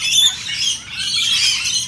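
Flock of parrots squawking together outdoors, a dense, continuous chorus of harsh calls with a few sharper chirps, fairly loud throughout without pause.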